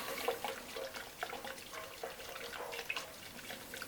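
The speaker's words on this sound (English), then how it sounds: "Just going to put some hot water in there." Hot water pours into a brewing container for a Muntons Flagship Hazy IPA extract kit, a quiet, steady splashing trickle with small drips running throughout at close range.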